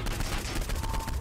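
Rapid gunfire in the video game Saints Row IV during co-op play, a dense continuous barrage of shots filling the short stretch at steady volume.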